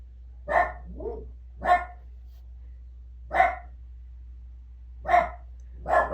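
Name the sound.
dogs barking, one outside and one inside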